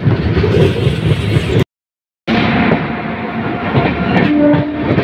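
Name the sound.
freight train crossing the Padatik Express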